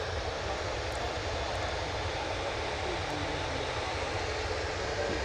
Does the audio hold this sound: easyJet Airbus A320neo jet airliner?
yes